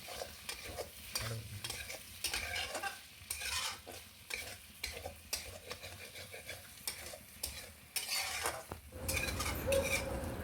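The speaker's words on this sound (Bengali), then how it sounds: "ভালো করে নেড়ে নেবো" Potatoes frying for vegetarian aloo dum are stirred with frequent metal scrapes and clinks against the pan, the sizzle rising and falling between strokes and growing fuller near the end.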